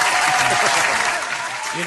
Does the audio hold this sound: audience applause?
yes